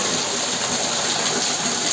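Water gushes steadily down a village waterfall where people bathe during the season's first rain. It is a loud, continuous broadband rush with no pauses and no voices.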